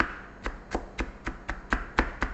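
Garlic being finely chopped with a knife on a board, a run of about eight crisp, evenly spaced chops in quick rhythm, close and fairly quiet with no talking.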